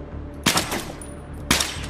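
Two sharp, loud gunshots about a second apart in a Battlefield 3 co-op match, each a hard crack with a fading echo, close and alone without talk.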